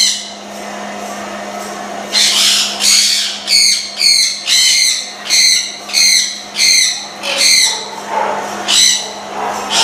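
A breeding pair of parrots, including African greys, squawking loudly and close by in a series of about ten harsh, repeated calls over a steady low hum, with no talk.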